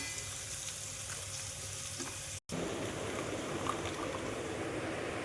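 Onions fry in a pan with a dense, continuous sizzle, broken by a short silent gap partway through before the crackling hiss resumes. No speech is heard.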